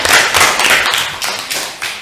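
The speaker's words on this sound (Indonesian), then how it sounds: "tepuk tangan untuk teman kita" Loud, close classroom applause for a student at a junior high math lesson, a dense burst of many hands clapping that carries on steadily for about two seconds.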